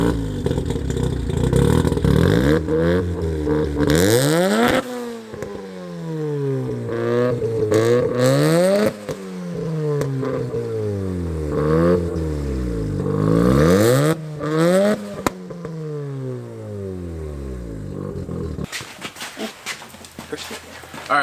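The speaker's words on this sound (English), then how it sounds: "I'll start up and give you guys a couple of revs" A car engine in a garage is revved repeatedly, loud close swells of rising and falling pitch in several bursts, with idle between and a voice heard faintly at times.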